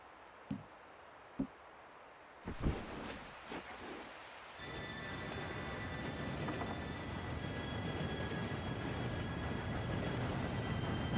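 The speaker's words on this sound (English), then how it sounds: "Train should be here any minute." A few sharp clicks, then a rumbling roar of an approaching train in the video game Red Dead Redemption 2 that swells and holds, with a faint high metallic whine over it.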